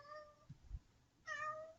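A cat meows twice, two drawn-out, tonal calls separated by a pause with faint low thumps between them, fairly quiet and close in a calm indoor room.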